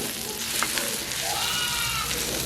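Ingredients sautéing in hot oil in a pan for shark fish curry, a dense continuous sizzle and crackle close up, steady throughout with a faint stirring scrape, no one talking.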